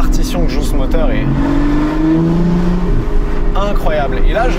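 A naturally aspirated V12 in an Aston Martin V12 Vantage S revving up in second gear, its engine tone rising and steady throughout, with someone talking over it.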